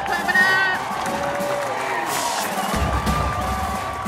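A rally crowd for reparations claps and cheers, a mix of applause, whoops and shouting voices, fairly close and steady, with talk mixed in.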